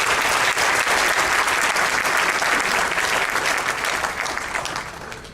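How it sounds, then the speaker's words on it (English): Loud, sustained applause from a large audience at a Defense Day speech honouring fallen soldiers, dense clapping that fills the whole stretch and slowly fades toward the end. "let's give a big round of applause to all of them."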